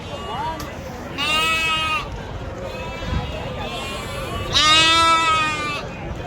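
Goats bleating at a village market while being carried on a vehicle, loud, close, sustained cries in a couple of long bursts, with someone talking throughout and market bustle behind.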